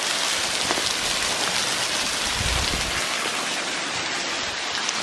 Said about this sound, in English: found us another little waterfall